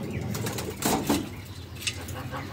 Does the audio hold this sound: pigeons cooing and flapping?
yes